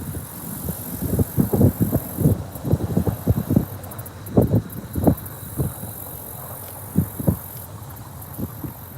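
Wind gusts buffet the microphone beside a carp fishing pond, coming in repeated rumbling bursts that rise and fall irregularly over a steady background hiss.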